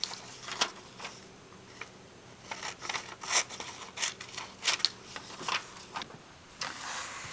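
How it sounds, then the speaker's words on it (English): Scissors trim paper birds cut out for a small collage in a mini notebook, giving a series of crisp, irregular snips close by with quiet pauses between them and no talking. "I've trimmed the birds and I used scissors"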